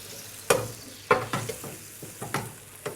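Bigarreau cherries macerated in Cadillac wine simmer gently in a pan in a restaurant kitchen, with a quiet bubbling bed under several distinct spoon clacks and scrapes.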